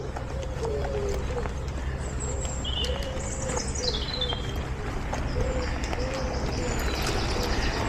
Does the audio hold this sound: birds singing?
yes